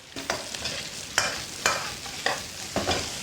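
Lettuce tops are stir-fried with fermented black bean dace, ginger, scallion and chili in rapeseed oil, producing a steady hiss broken by regular spatula tosses and scrapes about every half second, close and without talking.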